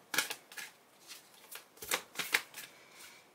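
Tarot cards handled and drawn from a deck, a series of crisp papery slaps and riffling snaps in an uneven rhythm, close and fairly quiet with no voices.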